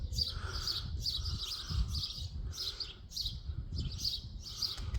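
A bird calls in repeated bright chirps and short trilling bursts, fairly near and clear over a low rumbling background, with no talking.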